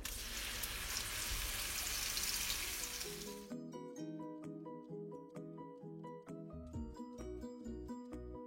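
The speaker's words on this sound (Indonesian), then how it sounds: "Tumis bumbu yang dihaluskan sampai benar-benar mateng banget." Spice paste sautéing in 5 to 7 tablespoons of cooking oil for a village chicken gulai, first a loud, dense sizzle that drops after a few seconds into quieter crackling and popping, with no one speaking.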